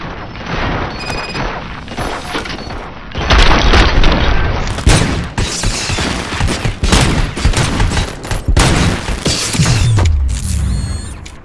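Loud, dense gunfire and heavy explosions from the RoboCop Rogue City video game, with rattling bursts, booms and mechanical clanks that keep going almost without a break.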